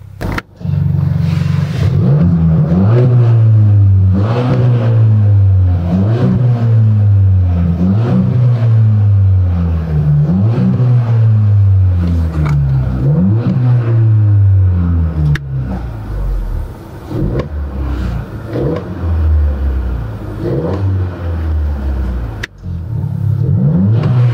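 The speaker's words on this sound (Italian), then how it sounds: "questo è sempre un rumore diciamo leggermente più sportivo di quello che eh, è quello di serie" A Volkswagen Golf 7 R-Line with a modified sporty exhaust revs repeatedly in steady rising-and-falling pulses, loud and close, with the engine note climbing and dropping over and over.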